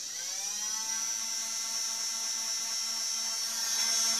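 A steady high-pitched motorized whir from the flywheels of a Hailfire toy foam blaster spinning at speed, held constant and close with a faint low hum beneath.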